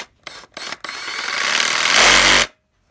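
DeWalt DCS380 reciprocating saw, repaired after a stuck piston, running: a few short trigger blips followed by a steady, rising motor whir held for about a second and a half before cutting off abruptly, loud and close.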